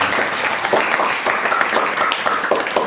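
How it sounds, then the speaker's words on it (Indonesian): An audience at a youth worship service in church claps and applauds in a dense, steady roar of many hands, loud and sustained throughout. "Boleh tepuk tangan yang terbaik."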